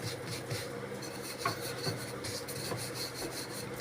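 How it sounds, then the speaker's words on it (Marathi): Chapati dough made from non-wheat flour is rolled out with a rolling pin, a steady close rubbing and rasping with soft periodic strokes, no talking during it. "साईडने पीठ घालून आपण लाटून घेणार आहोत चपाती"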